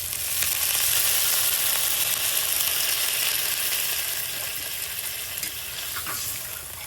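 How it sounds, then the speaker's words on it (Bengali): A cooked-down spice paste fries in a pan as water is poured in, giving a loud, dense, hissing sizzle that fades a little toward the end. No one talks. "মশলাটা কষানো হয়ে গেছে, এখন দিয়ে দেবো আমি পরিমাণ মতো জল।"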